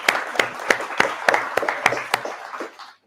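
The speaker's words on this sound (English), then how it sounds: "give him a big round of applause" An audience at a Plastic Free July marine evening event claps in a steady, evenly spaced rhythm, close and clear, before the clapping tapers off into silence.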